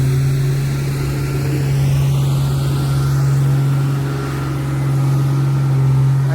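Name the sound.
car engine noise near a seaside temple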